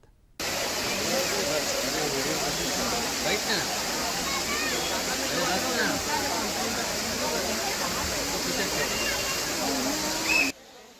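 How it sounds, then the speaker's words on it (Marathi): A waterfall, the main falls at Amboli swollen by days of torrential rain, roars in a dense, steady rush of water that fills the whole clip, with no pauses and no other sounds breaking through. "आंबोलीतील मुख्य धबधबा काही अंशी प्रवाहित झालेला आहे"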